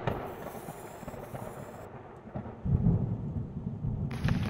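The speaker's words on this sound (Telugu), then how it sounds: "ఆ రోజు బోరున వర్షం పడింది" Heavy rain pours in a steady broadband wash, with low rumbling thunder rolling underneath that swells louder toward the end; no voices.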